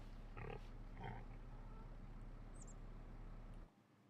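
Pigs in the farming video game Farming Simulator 25 give a couple of short grunts early on over a steady low engine-like hum, which cuts out near the end.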